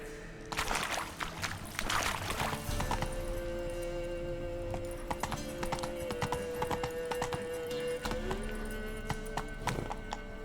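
Horse hooves clip-clop at a steady gallop in The Witcher 3 video game, a continuous rhythmic drumming that fills the whole stretch, with brief whinnies and faint game ambience behind.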